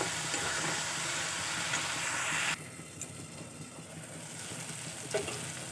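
Masala spices fry in oil in a pan for a soybean and potato curry, a loud steady sizzle and hiss that drops abruptly to a quieter, continued bubbling frying sound with a faint clink.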